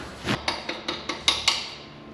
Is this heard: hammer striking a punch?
yes